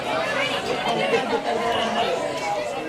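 Crowd at a high school baseball game between the Belton Tigers and Corsicana Tigers, a steady murmur of many chattering voices close behind, loud and continuous throughout.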